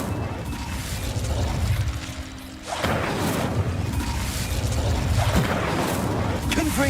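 Fire spell cast in Hogwarts Legacy: a sustained whooshing, crackling burst that drops briefly, then swells again into a loud roaring rush with sharp snaps near the end, played alone without talk.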